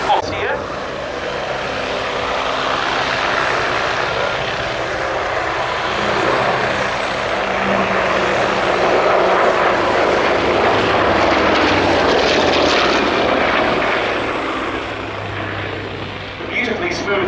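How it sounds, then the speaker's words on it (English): A Hawker Sea Fury's Bristol Centaurus piston engine in flight at an airshow gives a loud, smooth, continuous propeller drone that holds steady throughout, with a voice faintly under it. "The beautifully smooth sound of the Bristol Centaurus engine here in evidence."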